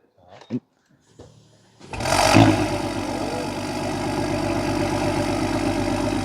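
Brief voices and a click, then an Infiniti Q50S 3.5 hybrid engine cranks and catches, settling into a loud, steady warm idle with a deep rumbling exhaust.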